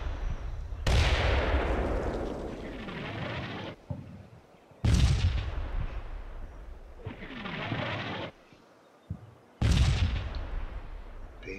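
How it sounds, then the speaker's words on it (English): An artillery barrage in the Cold War tactical game Combat Mission, with three heavy, booming blasts several seconds apart, each followed by a long rolling rumble and crackle that slowly fades. "Quite a barrage."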